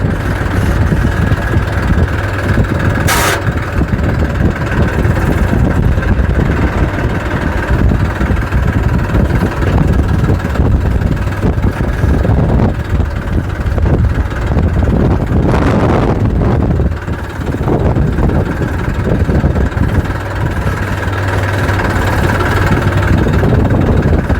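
A farm tractor engine runs steadily close by, a continuous low rumbling drone with wind buffeting the microphone throughout and no talk.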